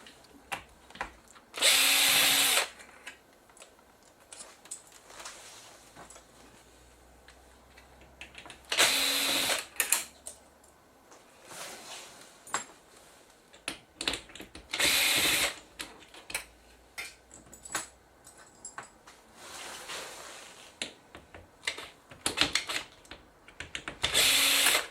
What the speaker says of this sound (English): Now we have a few more screws to get out.